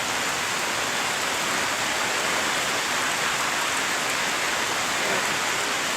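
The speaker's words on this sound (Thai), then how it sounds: "ฝนตกนะ" Heavy rain pours down on a rubber plantation in rural Isan, a dense, constant hiss of drops striking leaves and ground, close and loud with no break and no talk.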